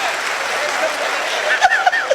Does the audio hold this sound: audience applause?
yes